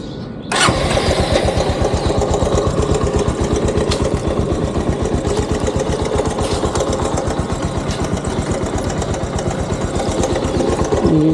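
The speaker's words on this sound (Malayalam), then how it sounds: "സോ ഫസ്റ്റ് നമ്മൾ ബൈക്ക് സ്റ്റാർട്ട് ചെയ്യുന്നു." A Bajaj Avenger 220 motorcycle engine cranks and catches with a sharp start, then settles into a loud, steady, close idle with an even thumping rhythm that runs on to the end without voices.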